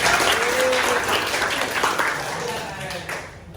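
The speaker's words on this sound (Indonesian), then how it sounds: "Tepuk tangan untuk Mirangga." An audience claps for a student during a school class session, a dense burst of applause that fades over a few seconds.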